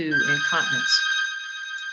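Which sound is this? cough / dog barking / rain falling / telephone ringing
telephone ringing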